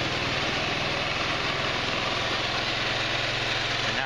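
A 150cc GY6 scooter engine idles after a valve adjustment, a steady close, loud putter with an even mechanical rumble and rear wheel spinning slightly, no pauses throughout.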